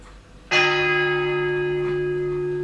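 A Flemish carillon of cast church bells strikes loudly, its bright, sustained ringing tones blooming together and hanging on with a long, resonant decay, heard alone without any voices.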